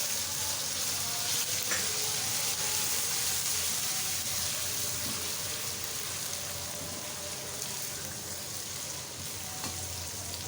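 Grated garlic ginger paste sizzling steadily in hot oil and ghee, a loud continuous frying hiss with no talking.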